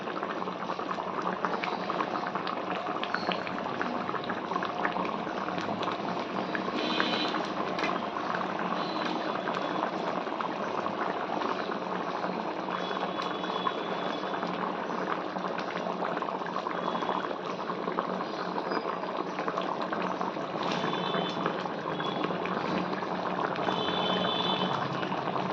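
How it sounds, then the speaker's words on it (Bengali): Lentil fritters simmer in a covered pot, giving a steady, dense bubbling and hissing boil that runs unbroken and fairly loud, with faint lid rattles and no voices. "এখন আরও 10 মিনিট এইভাবে করে ঢেকে ঢেকে ফুটাবো"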